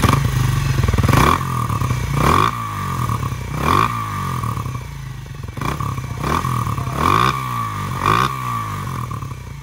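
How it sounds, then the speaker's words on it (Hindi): A modified Bajaj Pulsar 180 cafe racer with an aftermarket exhaust revs up close in a series of repeated throttle blips, each rising bark falling back to a rough idle, with some rattling clatter between revs. "इस एग्जॉस्ट का आवाज़ सुनाने कैसा आ रहा है?"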